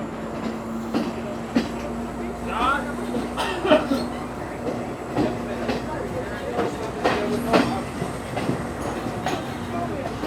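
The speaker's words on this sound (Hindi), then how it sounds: "ट्रेन जो है वो मूव करना शुरू किया।" A train pulls away and rolls along the rails from Ella to Ambewela, Sri Lanka, with a rhythmic clickety-clack and low rumble, wheels knocking at joints, while people talk nearby.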